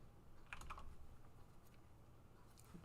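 Keys on a mechanical keyboard clack in soft, scattered typing picked up by a microphone right above the keypad during a live stream, faint clicks over a steady background hum.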